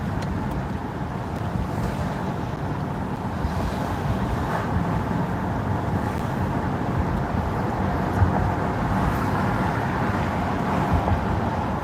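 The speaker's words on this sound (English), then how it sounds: "it's not even just a dead cold, it's the wind that's blowing" Strong, cold wind blows steadily near water, roaring and buffeting the microphone in a continuous, loud rush with occasional gusts over a low rumble, and no voices are heard.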